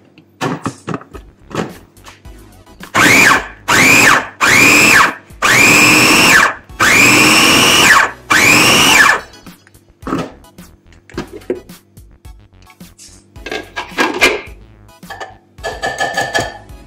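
Onion and cilantro for a kebab marinade whir in a blender in several loud bursts of a few seconds each, separated by short pauses. Quieter clattering and handling noises follow at the end.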